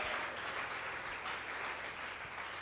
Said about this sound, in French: va acclamer très fort pour la gloire du Seigneur